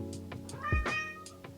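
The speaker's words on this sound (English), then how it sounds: "My kitty cat is meowing." A pet cat meows indoors, one clear, drawn-out tonal meow with a few softer short calls around it, close but fairly quiet against a low background hum.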